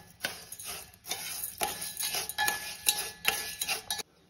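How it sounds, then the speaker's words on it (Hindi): A spoon stirs chana dal halwa in a pan on a gas flame, giving repeated rhythmic metallic scrapes and clinks against the pan at close range. "इसको हम अच्छी तरह चला लेंगे।"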